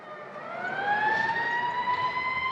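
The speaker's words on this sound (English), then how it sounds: "Look, Peter, those police cars are headed towards..." A police car siren sound effect from an old radio drama wails in a single long rising tone that holds loud and steady, with no voices over it.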